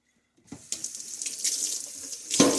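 A tap turns on and water runs steadily into a bowl while making mozzarella, splashing close by, with a brief clunk near the end.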